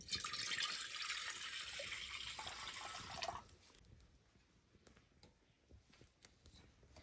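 Water is poured into a cooking pot for boiling gunda fruit, a steady broadband rush for about three seconds that then cuts off, leaving quiet room tone.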